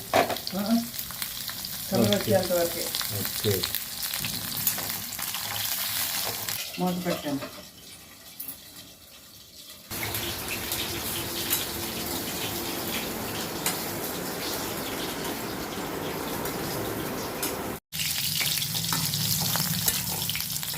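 Pointed gourd (parwal) pieces frying in hot oil in a pan for a potato kurma, with a loud continuous sizzle, a brief quieter stretch midway, then a broad steady crackle and occasional stirring sounds.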